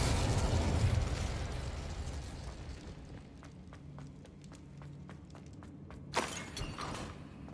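Confringo fire spell exploding in Hogwarts Legacy: a loud fiery blast that fades into crackling pops and debris ticks, followed by a second sharp burst near the end.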